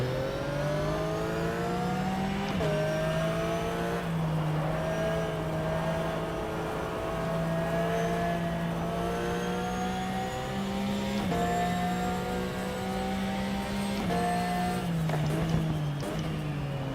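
Race car engine in a racing video game on the old Catalunya circuit, a loud steady drone rising and dropping through repeated gear changes for the whole stretch, with no talk over it.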